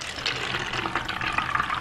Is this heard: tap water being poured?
yes